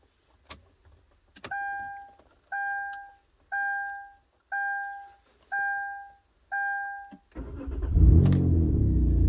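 A 2012 Kia Rondo with a crank-no-start fault gives six evenly spaced dashboard warning chimes, followed by the engine cranking with the ignition key as a loud, rough rumble near the end.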